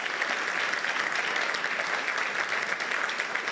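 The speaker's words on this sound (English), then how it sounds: "give you a big round of applause for your great accomplishments" Audience at an idea challenge awards event gives a big round of applause for winners, a dense, even, continuous roar of many hands clapping at steady loudness throughout.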